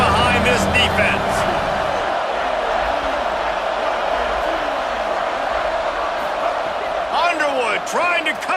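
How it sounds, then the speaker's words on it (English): A college football video game stadium crowd roars as a steady, dense wall of noise, swelling with whoops and cheers near the end, while commentary voices talk over it. "Big third down as the crowd gets behind this defense"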